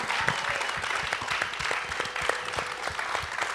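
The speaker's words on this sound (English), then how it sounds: "let's give a big round of applause to our amazing panelists today" A luncheon audience applauds panelists at a filmmaker event, with fairly close, moderate clapping whose individual claps are distinct and that stays steady throughout.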